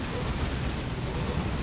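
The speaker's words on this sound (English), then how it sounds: "Big explosion, please." Dense, continuous roar of a large in-game explosion in the strategy game Dawn of War, Imperial Fists against Orks, a loud broadband rumble sustained throughout with no clear attack or decay.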